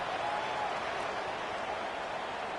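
A large stadium crowd at an American football game gives off a steady, broad roar of cheering and applause from the stands, dense and continuous, with no break across the whole stretch.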